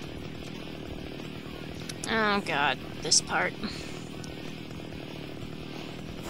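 Chainsaw buzzes in a Splatterhouse video game, a few short snarling revs in quick succession over steady background game noise, with a person talking briefly alongside.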